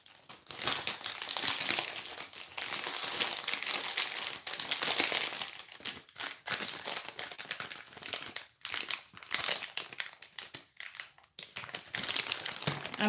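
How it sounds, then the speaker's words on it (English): Scissors snipping the tip off a plastic piping bag for cake decorating, heard as crinkly crackling plastic handling with a burst of sharp rustles and short pauses in between, fairly close and with no voice. "So now I'm just cutting the tip off."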